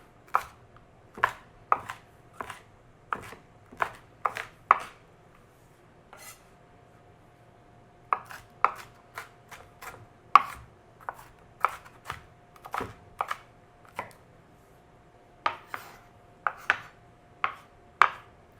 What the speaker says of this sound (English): I'm going to cut the peppers up a little bit smaller.